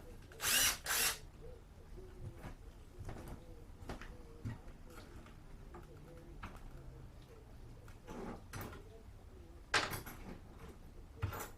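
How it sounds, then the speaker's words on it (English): An electric screwdriver gives a few short, loud whirring bursts between quieter handling noises and faint rustling during home wiring work, with spaced pauses between runs. "Gotta get the screwdriver here, hold on. The electric screwdriver, that is."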